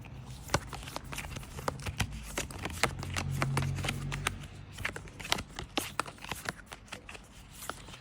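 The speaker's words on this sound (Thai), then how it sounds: "เดี๋ยวมาทำการ สับไพ่อีกรอบหนึ่งนะคะ" Tarot cards are shuffled by hand at close range, making repeated soft riffling and sharp flicking snaps over several seconds while someone talks quietly underneath.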